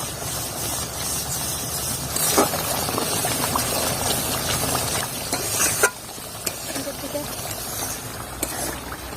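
Coriander and chili powder sizzle and hiss steadily in a hot pan for chilli chicken, with stirring scrapes throughout, a few sharper clatters near the middle and a voice talking over the cooking.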